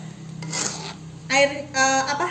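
A spatula scrapes and rubs through a red spice paste cooking in a pan for ketupat sayur, with a few rasping strokes at close range.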